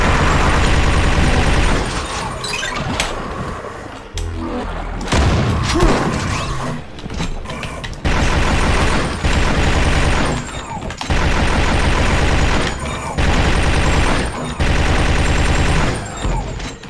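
Loud, dense Quake 1.5 combat on hard difficulty, with repeated booming grenade blasts and heavy gunfire in chunky bursts separated by brief gaps, continuous and close.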